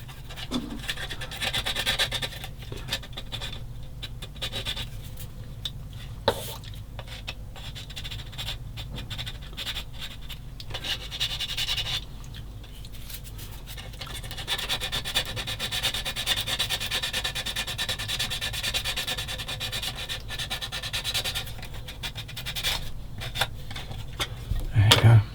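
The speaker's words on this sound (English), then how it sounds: "Now I just got to give me old sander and I'll use this one." Steady rubbing rasp of a sander working a plastic part from a 1/35 Bronco Mk XXIII submarine model kit, continuous and close for the whole stretch with brief pauses, no talk over it.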